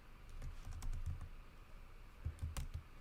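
Keystrokes on a computer keyboard while entering a password field input during browser extension setup, scattered quiet clicks in two short bursts, close and faint, with no talking.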